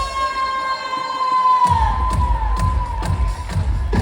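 A crowd at a concert in Ribeira cheers and shouts over a sustained tone. The noise bursts in loudly partway through, then rises and falls in rhythmic waves until the end.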